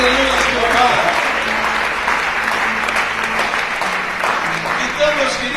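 A church congregation breaks into loud applause during a sermon, close, dense clapping mixed with a voice speaking over it for a few seconds.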